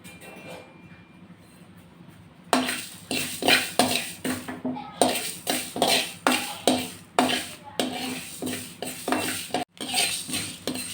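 Fenugreek seeds roast in a pan while a spoon stirs them, giving a run of sharp repeated scraping strokes with faint crackling underneath, close and steady for several seconds after a quiet start.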